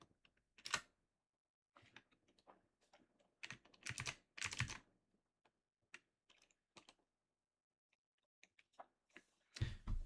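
Keys clicking on a computer keyboard in short, irregular bursts separated by quiet gaps, close and clear with no voices.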